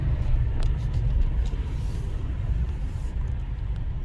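Low, steady engine rumble from a car moving slowly through a parking lot, close by and continuous at moderate level, with a few faint clicks on top.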